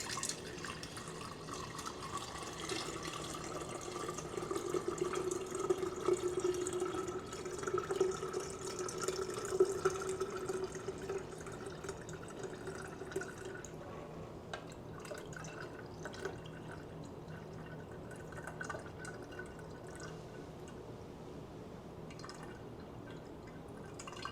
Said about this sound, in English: I'm just gonna take this strainer and set it up here, and let's pour it in, just like that.